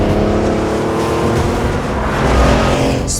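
A Porsche 911 Turbo engine pulls hard and loud, with a steady rising drone of layered engine harmonics that builds slightly toward the end, heard up close with no talking.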